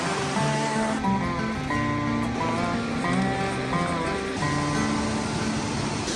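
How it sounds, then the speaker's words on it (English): A steady, broad rush of falling water fills the background, with sustained tonal notes drifting over it throughout. "I can hear waterfalls, I think."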